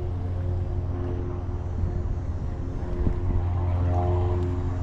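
An airplane drones overhead outdoors during work on a vehicle's door panels: a loud, continuous low engine hum with steady tonal bands that holds for the whole stretch and swells slightly toward the end.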